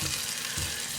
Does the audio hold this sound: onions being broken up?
yes